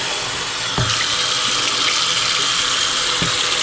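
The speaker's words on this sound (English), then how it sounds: "I'll put water in here and I'll use the water to get in the brushes" Warm tap water pours steadily into a sink to clean oil paint brushes, a loud, close, continuous gush with a few faint knocks and no voices.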